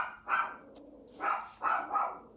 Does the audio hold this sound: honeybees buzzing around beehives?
no